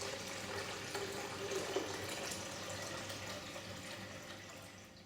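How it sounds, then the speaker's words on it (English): Water poured into the tank of a De'Longhi Icona pump espresso machine, a steady soft splashing trickle that continues evenly and quietly throughout. "Alternatively, you can fill the water tank from a stationary position."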